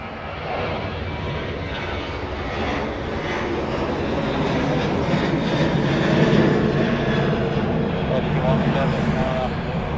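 An airplane departs Dublin Airport on a lower Sierra 6 departure route, its engines roaring in a broad, steady rumble that swells slightly toward the middle, with a person talking underneath.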